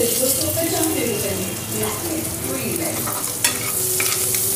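Chopped green chillies hit hot oil with cumin seeds in a pan, giving a steady close sizzle and frying hiss with light stirring scrapes, and no one speaks.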